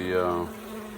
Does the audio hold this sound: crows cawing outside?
no